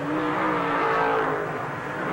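Race cars roar past at the 1970 Hoosier 100 dirt-track race, a loud, steady engine drone holding near for about two seconds with no voices over it.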